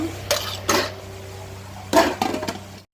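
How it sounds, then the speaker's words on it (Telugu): Onions go into a heating cooking pot, with a few short crackling, sizzling bursts and light metallic clatter, close up with no voices. "హీట్ అవుతుంది, ఆనియన్స్ వేసుకున్నాను."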